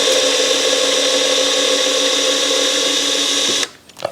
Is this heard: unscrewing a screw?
yes